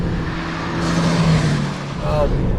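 A 2013 Hyundai Genesis Coupe 2.0T R-Spec engine revs up loudly and then lets the revs hang and drop off slowly, with people talking over the engine noise.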